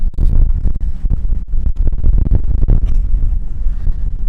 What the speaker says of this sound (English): Is it really gusting? It's gusting.